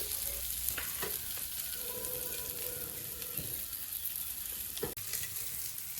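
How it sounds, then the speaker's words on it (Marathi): Fish pieces frying in a small amount of oil in a rural Konkan village kitchen, giving a steady, dense sizzle throughout with a few light clinks and stirring scrapes, close and alone with no talk. "ते मासे मी आता बरे भाजून घेतो आणि नंतर तुमका दाखवते थोडासा तेल टाकते कमी तेलातच मासे वाटते"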